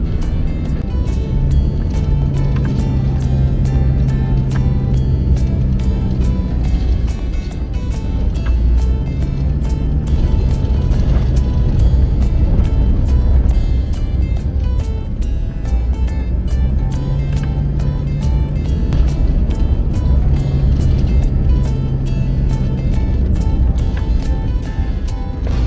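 A car drives a long outback road between Bourke and Arkaroola, giving a steady, loud rumble of engine and road noise with low droning tones that continue unbroken and without talk.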